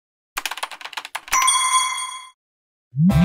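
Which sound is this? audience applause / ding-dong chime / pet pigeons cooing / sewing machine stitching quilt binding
ding-dong chime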